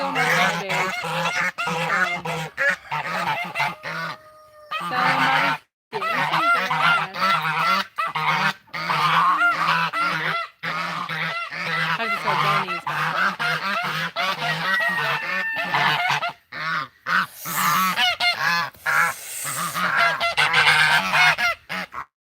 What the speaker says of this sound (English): Sorry, the geese are kind of loud.